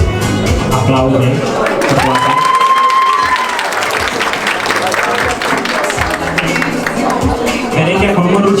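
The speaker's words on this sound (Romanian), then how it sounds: "Aplaude." Applause and cheering from an audience at a Miss & Mister school pageant in Slobozia, loud and sustained, with a crowd murmur and a few voices shouting throughout.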